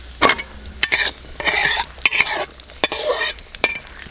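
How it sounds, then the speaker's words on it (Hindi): Slit green chillies and cumin fry in hot cooking oil in a kadhai, bursts of crackling sizzle punctuated by sharp utensil knocks against the pan, close and fairly loud. "सब्ज़ मिर्चें इन्हें कट लगा के डालें।"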